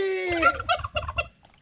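A farmyard turkey gobbles once in a loud, close, rapid warbling burst that trails off, with no talk over it.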